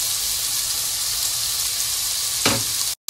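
Half a bell pepper sizzles in a sofrito for Ecuadorian lentil soup, a loud steady frying hiss with one brief stirring scrape near the end before it cuts off.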